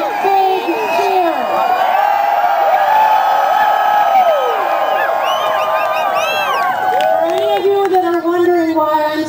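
A large crowd at a protest rally at the Capitol in Madison, Wisconsin, cheers, whoops and shouts loudly and continuously, a close, swelling din of many voices.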